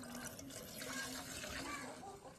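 Kerosene being poured steadily into a container, a soft continuous liquid trickle and splash heard close by, at low level, for a couple of seconds.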